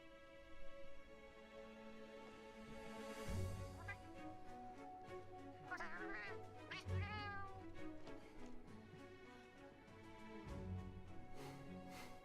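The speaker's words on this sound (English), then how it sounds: "This cat is hilarious." A cat meows repeatedly in Monster Hunter Wilds, with several drawn-out, warbling cries standing out clearly over a steady musical and ambient game soundtrack.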